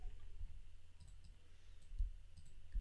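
Quiet computer mouse clicks while working in Adobe Illustrator, a few sharp, faint ticks scattered through a near-silent stretch, including a quick double click around the middle.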